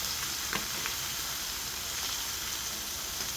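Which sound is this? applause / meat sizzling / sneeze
meat sizzling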